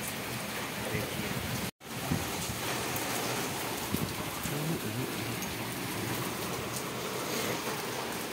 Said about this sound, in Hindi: बड़े दिनों बाद आज बारिश हो रही है